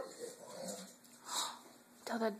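A dog pants and whines softly at a dinner table where chicken is being served, with brief breathy whimpers close by and a person talking quietly.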